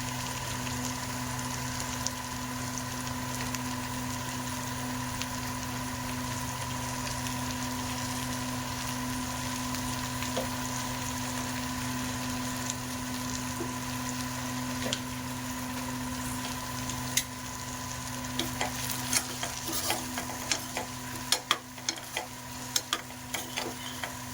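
Curry vegetables tipped in with fried potatoes in a pan, giving a steady crackling sizzle with occasional scrapes and taps near the end, close and even in level, with no one talking over it.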